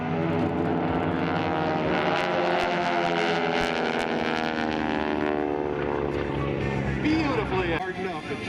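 AeroShell T-6 propeller planes fly a formation maneuver at the Sun 'n Fun airshow, their radial engines droning loudly and continuously with a shifting pitch as they pass, while an announcer talks over the sound.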